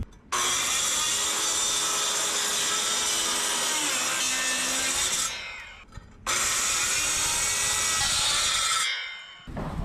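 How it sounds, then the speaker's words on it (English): A circular saw with a diamond blade whines loudly through brick in two long continuous cuts, pausing briefly in between, with a high grinding rasp close by. "now we're going to deepen those cuts using the circular saw with a diamond tip blade"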